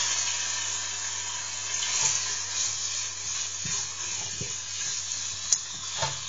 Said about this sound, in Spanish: le echamos las puntas de solomillo